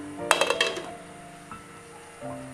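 A metal lid clinks onto a cooking pot of jackfruit curry, a quick cluster of four or five bright clanks, followed by a quieter knock and soft kitchen noise.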